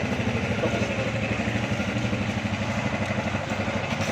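A Honda Rebel 250 two-cylinder motorcycle engine idles close by with a steady low chugging rumble and a faint mechanical clatter, running evenly throughout.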